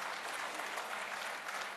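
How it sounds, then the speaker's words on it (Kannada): Steady, dense applause from a large audience at a tribute gathering for the late Kannada actor Puneeth Rajkumar, the film fraternity in attendance, heard alone and fairly distant with no voices over it. "ಇಡೀ ದೊಡ್ಡ ಮನೆ ಬಳಗಕ್ಕೆ ನಮ್ಮೆಲ್ಲರ ಒಂದು ದೊಡ್ಡ ನಮನ ಚಪ್ಪಾಳೆಯ ಮುಖೇನ ಸಂದಾಯವಾಗಲೇಬೇಕು"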